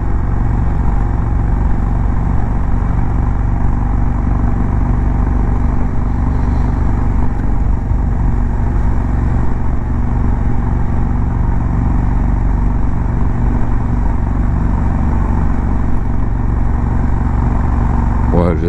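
A steady, loud KTM motorcycle engine drones throughout at cruising speed through villages, with rumbling low tones and rushing wind noise, no pauses.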